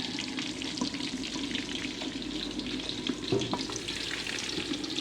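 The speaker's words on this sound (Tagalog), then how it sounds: "Ito yung pritos natin na karne" Pieces of meat fry in a pan with a steady, dense sizzle and crackle that holds at an even level throughout, with no voices.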